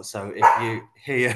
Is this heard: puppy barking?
yes